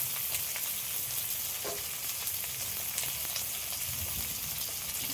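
Ground spice paste with salt and turmeric frying in a pan, a steady close sizzle with faint crackles and occasional stirring scrapes, no talking.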